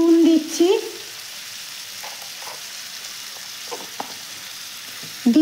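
Carrot and capsicum with salt and chopped green chilli frying in a pan, a steady low sizzle with occasional stirring clicks, a voice speaking briefly at the start and end.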